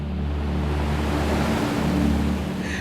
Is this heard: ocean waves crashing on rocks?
yes